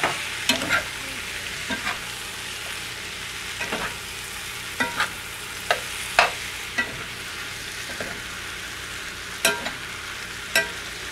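Spiced potato curry cooks in a pan with a steady sizzle, punctuated by a series of sharp scraping stirs at irregular intervals, close and fairly clear with no talking.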